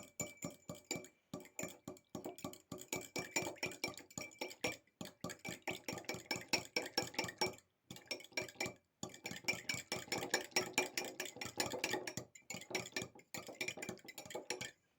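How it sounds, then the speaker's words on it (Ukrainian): An egg and a pinch of salt whisked in a bowl for cake batter, a fork or whisk clinking rapidly and steadily against the sides in a close, continuous rhythm with brief pauses. "Яйце туди одне і щепотку солі. І збиваємо, просто перемішуємо"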